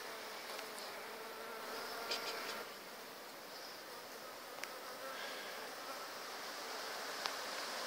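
Honeybees pour out of a top bar hive in a dense, steady hum that fills the air close by, with no voices.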